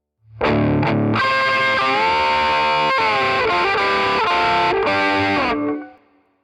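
Distorted electric guitar plays a slow phrase of two-note double stops from a song's solo, with several bent notes sustaining loudly before fading out at the end.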